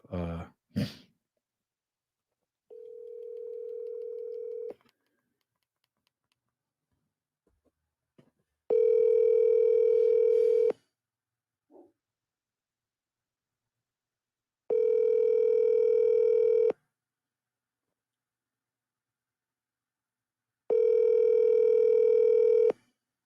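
A phone call rings out with repeated ringback tones, three long steady beeps spaced evenly apart, after a short sound and a brief lower tone at the start.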